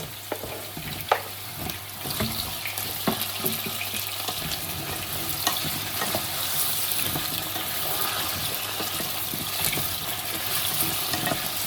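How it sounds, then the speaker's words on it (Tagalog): Carrots and potatoes, cut for beef mechado, fry together in a small, crowded pan, with a dense, continuous sizzle and occasional clatter and scrapes of stirring. "Pagsabayin na natin yung carrots, patatas. Ayan. Fried natin."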